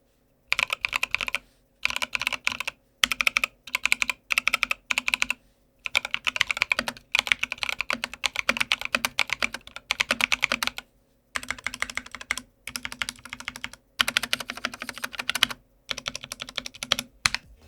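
Typing on an Epomaker NT68 wireless mechanical keyboard: rapid, close-up clacky keystrokes in bursts of varying length separated by brief silent pauses, with no speech over it.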